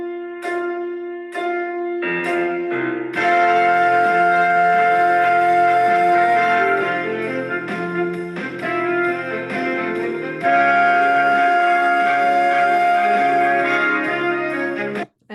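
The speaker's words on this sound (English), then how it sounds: "So that's what our accompaniment sounds like." Four count-in clicks lead into a music accompaniment track that plays on steadily and clearly, with sustained tones and no voices.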